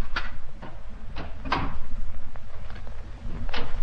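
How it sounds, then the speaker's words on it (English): A door being unlocked and opened in a radio drama, heard as a string of close clicks, a rattle and wooden knocks over a steady low background hum, with no voices. "Just a moment while I unlock the door."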